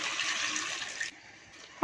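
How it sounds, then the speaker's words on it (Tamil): Water pours steadily into a pot of vegetables and masala for sambar, a loud rushing splash that stops abruptly, followed by quieter settling sounds. "இப்போ வந்து இந்த காய்கறி வேகிற அளவுக்கு தண்ணி ஆட் பண்ணிக்கலாம்."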